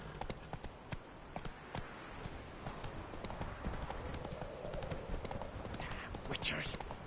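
Hooves of Geralt's horse Roach clip-clop steadily in The Witcher 3, a continuous rhythmic trot heard close, with faint ambient game sound behind and a brief whoosh near the end.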